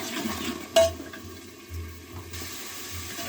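Tomato masala stirred and roasted in a pot for rajma, with scraping and clanking of a utensil against metal, a sharp knock near the start, over a low simmering hiss.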